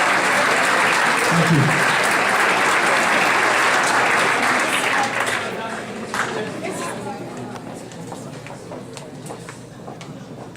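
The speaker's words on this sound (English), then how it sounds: "Let's give our winter CCC All-Academic team a big round of applause." Sustained applause from a high school winter sports banquet audience, loud and dense at first, then thinning and fading over the last half as a brief spoken thanks is heard.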